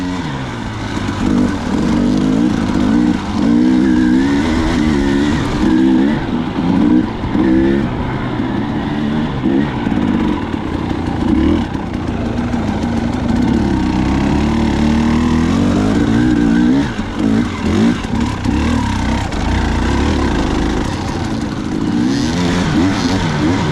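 A dirt bike engine on the gas climbing a hill at Brushy Mountain Motor Sports Park: a loud, close, sustained motor drone whose revs rise and fall throughout, with no clear speech over it.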